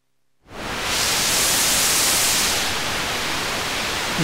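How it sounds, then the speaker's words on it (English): A burst of loud hissing white noise from a kNoB technology η Carinae VCO synthesizer module starts suddenly after a short silence and continues steadily, a flat static wash. "White noise output."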